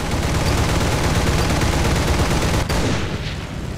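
Sustained, dense gunfire from War Thunder, a rapid continuous rattle of automatic weapons firing without pause, loud and close, cutting off abruptly near the end and leaving a quieter, softer tail of game sound.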